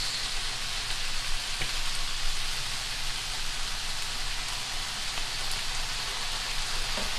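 Garlic frying in a pan with oil, a steady, close, hissing sizzle with faint crackles, continuous and without talk.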